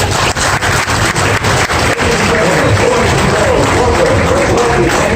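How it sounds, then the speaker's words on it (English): An audience applauds and cheers at the Weeki Wachee State Park mermaid show, a loud, dense roar of clapping that stays steady for the whole stretch, with a few sharper claps standing out early on. "Let's send them off with a big round of applause."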